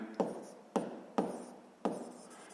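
Chalk or marker strokes on a board while writing out a sixth-grade maths exercise, four short scratchy strokes at an even pace, close and fairly quiet.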